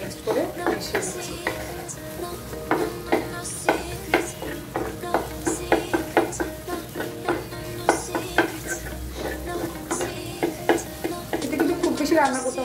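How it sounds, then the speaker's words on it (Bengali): Spatula scraping and clattering against a frying pan while egg and onion are stirred together with other ingredients for bread pizza, quick repeated strokes over a soft sizzle. "এখন যখন ডিমটা একটু শক্ত শক্ত হয়ে যাচ্ছে, আমি সব ইনগ্রিডিয়েন্টগুলো একসাথে মিক্স করে মিশিয়ে দিচ্ছি।"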